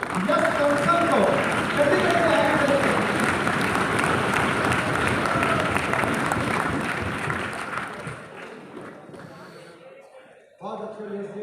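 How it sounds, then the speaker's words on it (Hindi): A crowd at a stage event gives loud, thick applause to welcome a speaker, sustained for about eight seconds before it thins and fades, followed by a short stretch of voice. "तो वो है तो एक बार जोरदार तालियों से बुलाएंगे यश कौशल को।"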